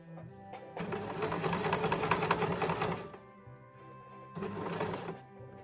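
A sewing machine stitches bias binding onto a sleeveless top in two bursts, a rapid mechanical rattle for about two seconds, a brief pause with quiet hum, then a shorter second run, close and clear.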